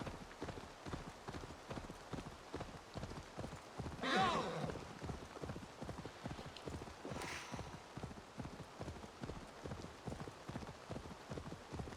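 A horse's hooves clip-clop at a steady walking pace in the Assassin's Creed Valhalla video game, a regular close rhythm of muffled thuds that runs the whole way, with two brief louder rustling bursts partway through.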